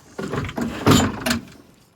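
Clunks and a knock as a door is lifted off its hinges on a 2011 Holden Colorado ute during a strip-out, three close thuds of metal and handling noise with no talking.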